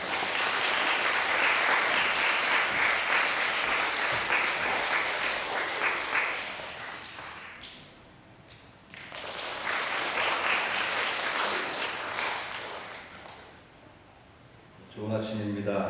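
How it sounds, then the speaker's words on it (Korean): A church congregation applauds to welcome a visiting missionary to the front: sustained clapping from a crowd indoors, a pause, then a second round that fades as a voice begins speaking. "우리 선교사님 올라오실 때 우리 박수로 환영해 주시면 감사하겠습니다."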